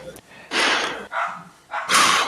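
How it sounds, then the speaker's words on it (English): An excited pet dog barks and yaps in three loud, rough bursts close to the microphone, separated by short pauses, with no talking during the barks. "My dog is going nuts. She's so excited."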